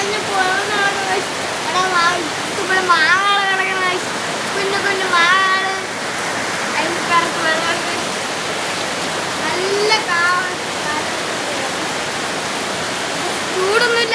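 Heavy rain pours down steadily as a broad, constant wash throughout, with a person talking intermittently over it.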